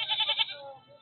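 A single goat at the weekly Siddipet livestock market gives a short, wavering bleat close by, fading into quieter background sounds.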